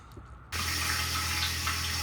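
Warm water runs from a tap while dishes are washed up during a road trip; after half a second of quiet the flow starts abruptly and holds as a steady, close, hissing gush.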